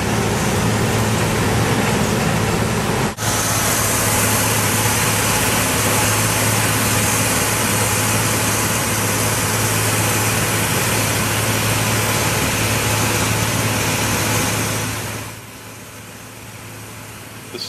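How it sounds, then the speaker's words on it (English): A Wirtgen W2100 asphalt milling machine of more than 700 horsepower runs at a loud, steady roar with a constant low engine drone and broad grinding noise, briefly dipping once, then dropping off at the end. "The machines that Killian used are Working W2100 milling machines."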